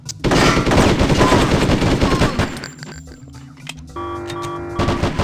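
Dense automatic gunfire from the Hitman: Codename 47 Colombia level, loud rapid bursts and shots blending with game effects, fading toward the middle before a brief tonal game sound and more shots near the end.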